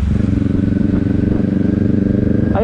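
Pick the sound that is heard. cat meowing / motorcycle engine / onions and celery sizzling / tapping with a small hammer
motorcycle engine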